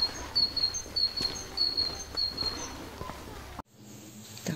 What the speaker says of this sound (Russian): Раз птички поют, значит,